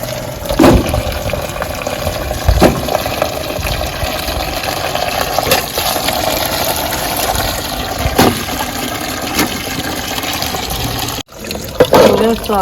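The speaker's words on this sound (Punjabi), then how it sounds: "ਆਪਾਂ ਤਿੰਨ ਚਾਰ ਪਾਣੀ ਧੋ ਲਿਆ" Mangoes for pickle are washed in water, with sloshing and splashing and occasional sharp knocks, close by. A voice is briefly heard near the end.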